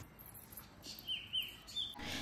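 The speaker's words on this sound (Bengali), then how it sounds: "চারিদিকে পাখি ডাকছে" Small birds chirp in the peaceful garden of the Kapil Muni ashram in Madhupur, Jharkhand. Three or four short, high, faint chirps come over a soft, steady outdoor hush.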